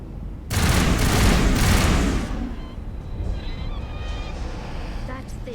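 A heavy volley of gunfire in Mass Effect Legendary Edition erupts loudly for a couple of seconds, then fades into a busier, quieter combat din with sporadic sharper sounds and someone speaking.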